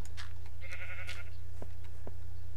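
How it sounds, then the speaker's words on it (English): A sheep in the Minecraft video game bleats twice in quick succession, fairly clear above a steady low hum, followed by a couple of short clicks. "That sheep is just taunting me."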